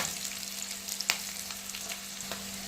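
Potatoes fry in oil for aloo chili. A brief, soft, continuous sizzle with a couple of light clicks plays over a faint steady hum.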